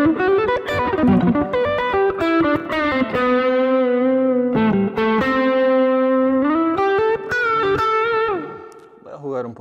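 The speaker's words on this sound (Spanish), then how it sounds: "Con distorsión." A Line 6 Variax electric guitar played through distortion, with sustained notes and bends ringing loudly and steadily for several seconds before a brief fade at the end.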